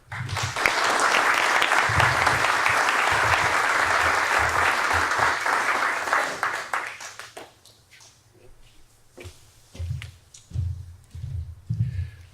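An audience applauds to welcome performer Bill Carter: dense, loud clapping for about seven seconds that thins out into scattered claps before a few final bursts.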